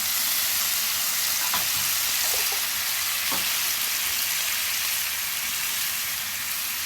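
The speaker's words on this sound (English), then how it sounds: "Start that garlic frying in some butter." Steady, even sizzle of garlic frying in butter on a hot griddle, with a few soft clicks of a utensil against the surface and no talking.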